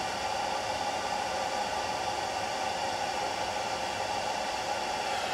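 An Everlast fume extractor running beside an Everlast 301 laser cleaner, giving a steady, loud, unbroken hiss and whoosh of airflow that holds at an even level throughout with no one talking.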